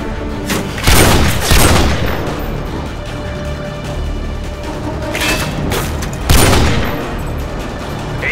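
Missile strikes exploding in Call of Duty Modern Warfare 2 spec ops gameplay: two heavy booming blasts a few seconds apart over continuous rumbling battle noise and distant gunfire.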